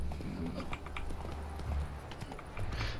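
Horse hooves trotting in The Witcher 3, a quick rhythmic clip-clop fairly faint beneath game ambience, while someone talks over it.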